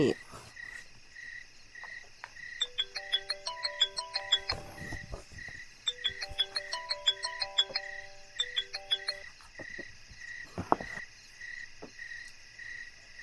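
A phone ringtone plays a repeating electronic melody in two bursts, moderately loud, over a steady chorus of crickets with occasional faint rustles and no clear talk.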